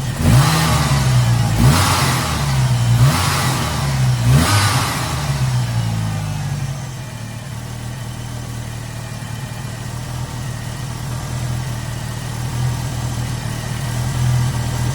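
A car engine fitted with a new fuel rail, regulator and 60 lb injectors revs sharply three times in quick succession, then settles into a steady, rumbling idle that carries on loudly to the end.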